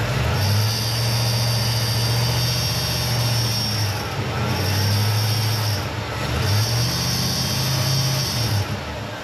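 A noisy alternator whines on a running Ford F100 engine, a loud close steady drone with a low hum that dips and rises in pitch several times as the engine revs change.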